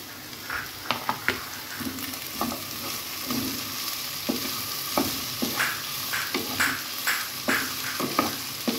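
Capsicum, tomatoes and cabbage go into a frying pan with chicken and potatoes, giving a steady close sizzle broken by repeated sharp spoon knocks and scraping strokes at an uneven pace, no one talking.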